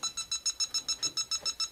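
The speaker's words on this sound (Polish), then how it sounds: "jak dotkniemy się, to też nam będzie sygnalizował czujnik, że coś jest nie tak" Refrigerant leak detector sensor on a heat pump check, beeping in a fast, steady series of about twelve short, high electronic pulses, clear and close with no talking.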